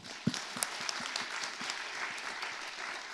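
A church congregation applauding at a year-end service, a steady patter of many hands clapping with a few sharp louder claps near the start, moderately loud and unbroken by talk.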